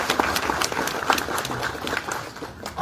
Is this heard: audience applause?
yes